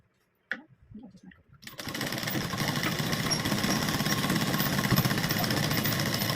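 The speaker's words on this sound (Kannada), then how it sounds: "ಈ ಥರ ಬ್ಲೌಸು ಇದರ ಮೇಲಿನ ಸ್ಟಿಚ್ ಹಾಕಬೇಕು." Sewing machine stitching a blouse, starting after a few soft handling clicks and then running as a steady close buzzing whir with fine rapid needle ticks.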